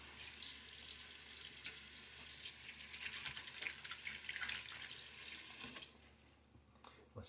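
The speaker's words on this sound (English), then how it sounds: "a little quick splash of water" Tap water runs and splashes at a sink during a wet shave, a steady loud rush for about six seconds that then cuts off, leaving a few faint drips and small handling sounds.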